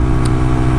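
A Suzuki RV125 VanVan motorcycle rides along a road, its mid-pitched engine droning steadily and loudly up close, mixed with constant wind and road rumble.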